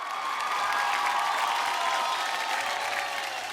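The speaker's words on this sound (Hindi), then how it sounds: "जोरदार तालियों के साथ स्वागत करते हैं हमारे जजेस का" Steady applause from a TV talent show audience welcoming the judges fills the whole stretch, a dense wash of clapping without pause.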